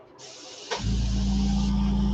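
An airbrush or compressor sprayer for painting a fishing lure starts up: a quiet hiss, a brief click, then a sudden loud steady hum with a continuous airy hiss running on alone.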